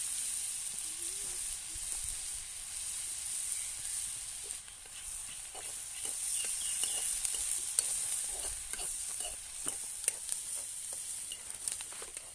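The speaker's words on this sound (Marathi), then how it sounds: "कांदा फ्राय होतो त्याचा।" Chopped onion fries in a pan with a steady, hissing sizzle. Soft scrapes and taps sound as it is stirred, and the frying is heard up close without talk.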